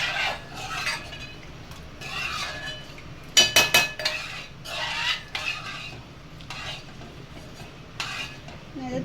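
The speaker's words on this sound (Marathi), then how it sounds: "तांदळाच्या गाठी ढवळत राहायचं सारखं." Rice kheer is stirred in a pot, with repeated scraping swishes of a spoon against the metal and a quick burst of sharp clinks partway through, fairly close and steady.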